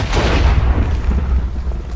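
A creeper explodes in a Minecraft modpack: a loud, close boom with a rumbling low-end blast that sustains and slowly fades over two seconds.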